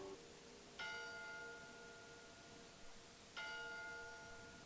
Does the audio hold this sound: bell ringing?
yes